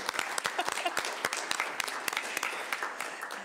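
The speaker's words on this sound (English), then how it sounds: "how about a, one more round of applause" Applause at a city council meeting, a modest room of people clapping with distinct sharp claps in an even, sustained patter, fairly quiet and alone without talk.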